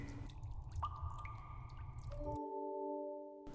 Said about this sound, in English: You can even hear water dropping from the cave ceiling into that subterranean lake in the Things Betwixt.